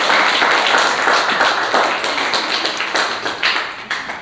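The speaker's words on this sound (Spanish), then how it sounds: "Démosle palmas al Señor, hermano" A church congregation clapping in praise to the Lord, a loud, steady run of rhythmic hand claps from many people filling the room.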